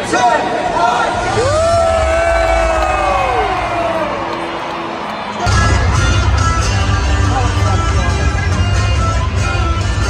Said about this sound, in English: we need this cheer as loud as we possibly can at Suncorp Stadium